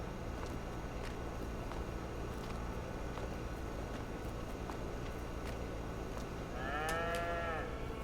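Cattle in the Big Fields XXL farming video game fill a feeding row with a steady, busy background hum, and one clear, drawn-out cow moo rises near the end.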